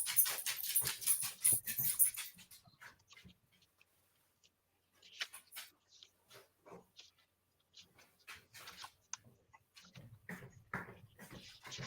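A dog whimpers and whines indoors in soft, broken bursts, faint and close, with brief pauses between the whines.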